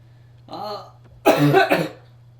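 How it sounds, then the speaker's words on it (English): A man lets out two close coughs, a short throaty one followed by a louder, rougher burst, over a faint steady electrical hum. "Pardon me as I cough here, guys."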